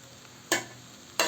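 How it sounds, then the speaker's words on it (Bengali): Rice, vegetables and lentils being sautéed in a pot for winter-vegetable letka khichuri, with two short scraping stirs, each lasting about a fifth of a second, over a quiet, steady background. "চালে সবজি ডালে সব কিছু মিলিয়ে একটু কষাইয়ে নিব।"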